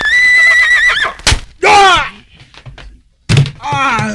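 A horse neighs loudly in a drama scene, with a long whinny, sharp thuds and a bang, then another close, strained neigh.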